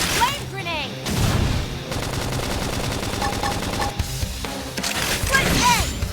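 Flame grenade attack during combat in Xenoblade Chronicles X, with dense rapid bursts of gunfire-like blasts and crashes running throughout over game music and brief voice calls.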